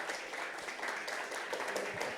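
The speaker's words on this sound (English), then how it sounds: "And can we give a big applause to all speakers again," Applause from an audience honouring speakers at the Thailand Pavilion during COP28 in Dubai, a steady, fairly faint patter of clapping lasting a couple of seconds.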